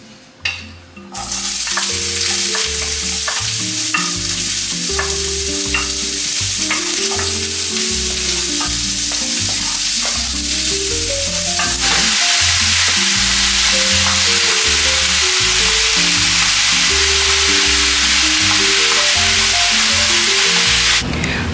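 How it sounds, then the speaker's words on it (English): Sweet onions hit a hot pan with a little oil and sizzle loudly and continuously, with the spatter growing brighter midway and steady scraping stirs underneath, close up. "I'm going to be sauteing these sweet onions"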